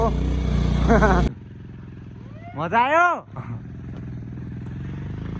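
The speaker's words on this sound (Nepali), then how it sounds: "पिकअप देऊ बाइकको" A Bajaj Avenger motorcycle climbs a steep uphill road with a steady, low engine drone. A rider's voice speaks first, then briefly exclaims over the engine.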